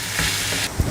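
Tomatoes sizzle steadily while being sautéed in a pan for a peanut and cluster bean gravy, a close hiss that briefly dips before a short stir or clatter.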